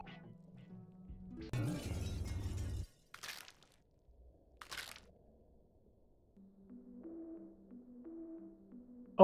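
Glass shatters in the video game Omori, a sharp crunching crash lasting about a second, followed by two brief bright breaking hits amid soft chiptune-like tones and near silence.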